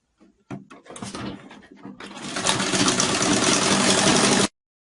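A sewing machine stitching a peplum seam on a contoured blouse, starting with a few short bursts and handling clicks, then running steadily and loudly for a couple of seconds before stopping abruptly.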